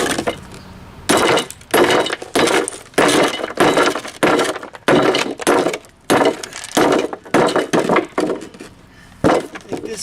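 A stone step piece is trimmed during a stone step installation, with a long run of loud, sharp knocks and chipping strikes repeating close by in uneven bursts.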